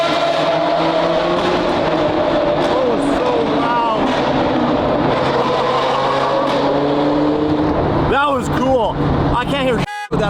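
A Lamborghini Murcielago engine roars inside a tunnel, a loud reverberating growl with rising revs and crackling bursts near the end, mixed with other traffic and voices talking over it.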